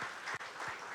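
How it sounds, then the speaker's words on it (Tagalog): Congregation clapping during a church service, a brief, faint patter of hands with a short dip in the middle, heard from some distance with no voices over it. "Pwede po bang pumalakpak ang lahat ng mga excited?"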